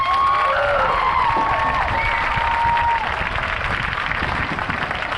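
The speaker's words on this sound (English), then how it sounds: "So give them a round of applause." A tailgate crowd applauds the Allen Color Guard with steady clapping and cheering, some high shouts and whistles rising over the continuous ovation.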